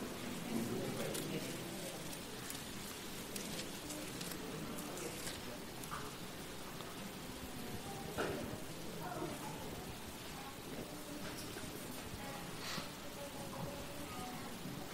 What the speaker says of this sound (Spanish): Igual está apretando la lluvia